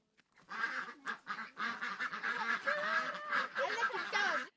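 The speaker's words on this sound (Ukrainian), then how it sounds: "Погодувавши кролів, Олексій з меншими братами вирушає до качок" A flock of farm ducks quacks and honks continuously at close range, loud overlapping nasal calls in rapid bursts with brief pauses, no talking.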